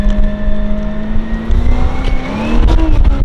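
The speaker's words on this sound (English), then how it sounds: "He's warming the tires up." A Toyota Land Cruiser V6 revs steadily while warming its tires in Dubai, a loud sustained engine drone whose pitch slowly climbs, with rough tire and road noise building beneath it and no voices.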